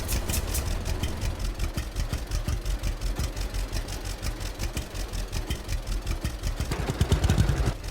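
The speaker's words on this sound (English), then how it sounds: "Let's hop on up to the Jack Bear and see what that sounds like." A Jack Bear tractor engine idles in the farming game Farmer's Dynasty, a steady low rhythmic chugging that holds even throughout and grows slightly louder near the end.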